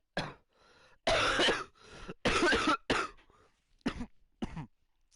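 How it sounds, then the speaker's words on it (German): A person coughing and clearing their throat during a FIFA 20 livestream, several harsh bursts of varying length separated by short pauses, close and loud with no talk. "Scheiß Husten."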